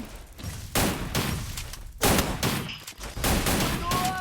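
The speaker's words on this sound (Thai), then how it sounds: "ตายยิงไม่หยุดเลยฝั่งนู้น" Dense, continuous gunfire from the mobile shooter Free Fire: rapid automatic bursts and overlapping shots fill the clip loudly with almost no break, and a few brief in-game tones sound over them.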